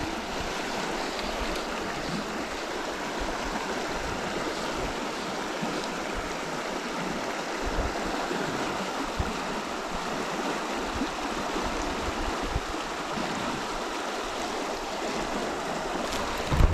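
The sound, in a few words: stream flowing in Central Washington desert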